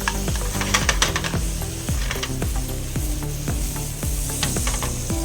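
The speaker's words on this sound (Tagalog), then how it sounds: "igigisa muna natin itong lahat nating mga spices. Ang bawang, sibuyas, luya, at kamatis" Garlic, onion, ginger and tomato sautéing in a pan for sweet and sour tuna belly: a continuous close sizzle broken by a quick, regular rhythm of spatula scrapes and stirs, with no voices.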